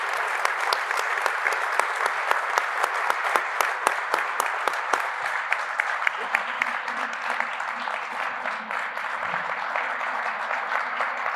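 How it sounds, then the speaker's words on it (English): An audience at a panel event applauds the panelists, steady clapping from a small crowd that starts crisp and sharp and then thins out, with a voice speaking faintly beneath it. "Let's give our panelists a round of applause."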